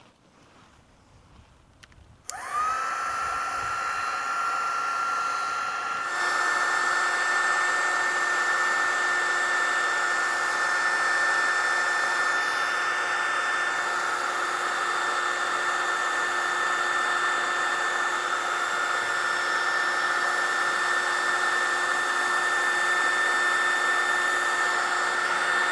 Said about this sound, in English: And then we're going to heat shrink that joint.